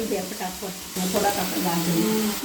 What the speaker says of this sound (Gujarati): થોડીક વાર હવે સાતળવા દેવી